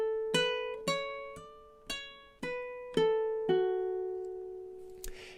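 Ukulele fingerpicked chord melody with seven evenly spaced plucked notes in time, each ringing and decaying, the last one sustained; quiet and close, with no voices.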